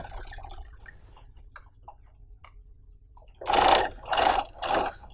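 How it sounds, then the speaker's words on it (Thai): Sewing machine stitching a garment seam, three loud bursts of rapid mechanical stitching near the end after quieter handling clicks. "ขอเย็บซะเลยนะคะ"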